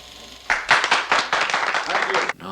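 A film classroom full of students breaks into applause, a dense burst of clapping that starts abruptly, holds steady for about two seconds, then cuts off sharply.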